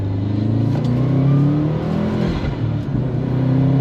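A turbocharged track car engine revs hard accelerating under heavy boost, a loud sustained roar rising in pitch with a brief dip partway, close and steady throughout.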